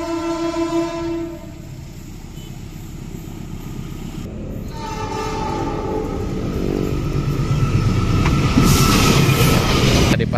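A train sounds its horn in long blasts while approaching an informal rail crossing by a busy road, then its rumbling passage builds loud and close, steady clatter swelling to the end.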